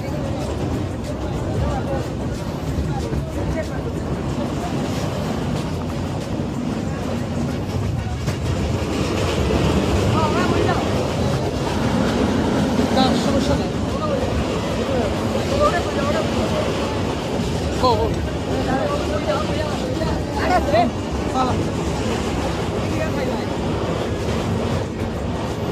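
Inside a crowded Bangladesh railway carriage, a moving train rumbles and rattles steadily, with clattering wheels and wind noise under the chatter of passengers and vendors.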